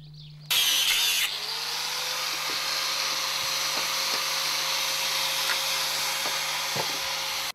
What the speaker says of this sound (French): maintenant on va couper l'ancien gond